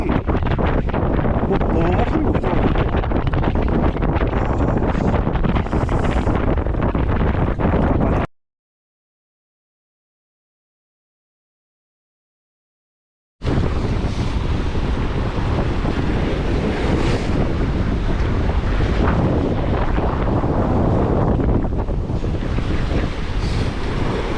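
Strong spring wind roars across the microphone on a small fishing boat out at sea near Namu Island off Busan, with heavy rushing gusts and surf throughout. The sound cuts to silence for several seconds partway through.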